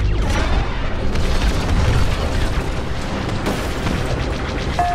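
A satellite blowing apart in Star Wars Battlefront II space combat, a loud, continuous booming roar of explosion and debris that holds steady for several seconds with no speech over it.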